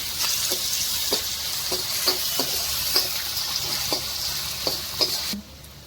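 Green chillies and a piece of ginger sizzle steadily in hot oil in a pan for veg manchurian, with a continuous bright hiss punctuated by regular soft clicks of stirring, close and fairly loud, no voices, ending abruptly.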